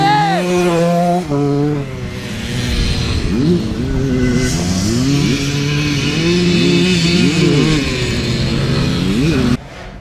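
Old enduro motorcycles race along a winding course at an enduro event, engines loud and close, revving and shifting through the bends with rising and falling pitch as several bikes pass in succession.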